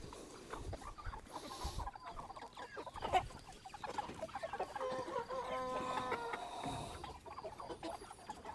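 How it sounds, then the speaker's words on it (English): A lone rooster in a batch of meat chickens lets out a thin, feeble crow among steady nearby clucking from the flock, with no talking. "one rooster in this entire batch, and it has the saddest little like coo coo coo coo coo"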